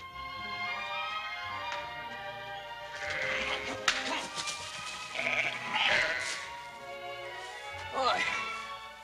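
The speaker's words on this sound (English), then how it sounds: "I never knew a couple dozen sheep could be so ornery." Several sheep bleat repeatedly at close range, overlapping calls rising and falling, with people talking underneath and some tapping noises.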